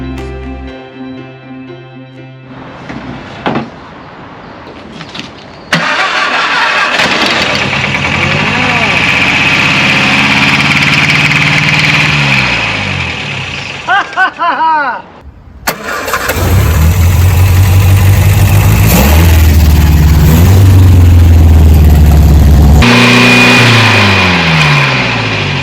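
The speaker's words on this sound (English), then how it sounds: "So this is the first time this car has run in probably 30 years." A 1958 MGA Coupe barn find, one piston freed after sticking, cranks and catches for its first run in about 30 years. The engine stutters, revs and settles into a loud, rough running note, briefly cuts out, then restarts and runs strongly.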